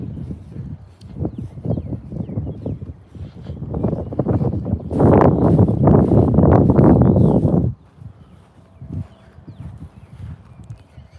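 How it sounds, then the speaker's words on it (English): Gusty outdoor wind buffets the microphone beside a North Carolina bass fishing spot, heavy rumbling bursts that swell, hold for a few seconds, then drop away into quieter rustling. "Another windy day."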